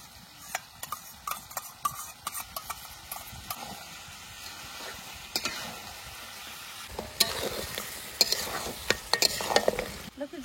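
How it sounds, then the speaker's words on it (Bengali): Chunks of mutton with yogurt being stirred and fried in a pan, close-up and moderately quiet, with repeated scraping clinks of a spoon against the pan over a steady sizzle that grows busier toward the end. "এবার দইটা দিয়ে একটু নাড়াচাড়া দিয়ে তারপর জল দিয়ে দেবো"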